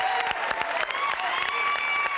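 A studio audience on a dating game show applauds steadily and densely throughout, with faint voices mixed into the clapping.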